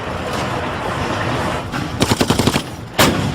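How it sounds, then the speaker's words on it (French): A German MG-34 machine gun fires a rapid burst of about eight sharp shots, then a heavier single blast. The scene is a World War II street battle at the Remagen bridge, set over rumbling battlefield noise. "Les hommes de Burroughs sont toujours bloqués par la MG-34"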